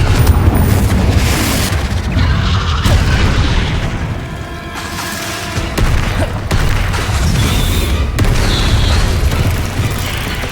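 Confringo spells blast one after another in Hogwarts Legacy, a loud, continuous rumble of fiery explosions with sharper booming hits landing every few seconds.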